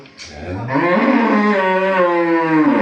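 A dairy cow lets out a single long, loud moo close by, rising and holding steady for about two seconds.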